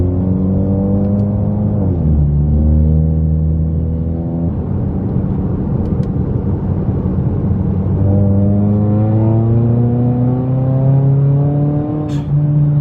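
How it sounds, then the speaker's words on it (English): A Ford Mustang S550 engine pulls from about 3,000 to 5,000 RPM. The loud, continuous engine note climbs steadily in pitch, drops sharply twice as gears change, and keeps rising with no talking. "I'm just gonna do a quick little pull. I might just do 3k RPM to 4 or 5k RPM."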